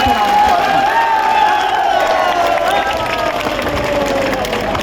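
Crowd at a political rally cheering and clapping in support, a loud sustained wall of applause and shouts close around, steady for the whole stretch with a rising voice-like tone riding over it.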